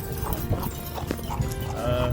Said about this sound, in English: So we in a little horse-drawn carriage, as you can see.